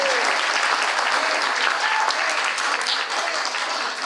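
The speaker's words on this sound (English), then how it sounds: "a round of applause for Hector" An audience at an artist talk claps steadily for the artist, dense even applause filling the room throughout with no talk over it.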